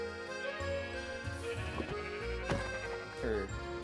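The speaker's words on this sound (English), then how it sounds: "There's sheep over here. I'm gonna get these sheep." Sheep bleat in Minecraft over a dense layer of game music and sound, with a few short bleats that stand out near the middle and end.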